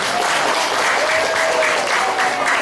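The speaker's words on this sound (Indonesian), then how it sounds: "Tepuk tangan buat remaja-remaja Al-Amin." A mosque congregation claps for the Al-Amin youth, a loud, dense and continuous burst of applause heard close and filling the whole moment.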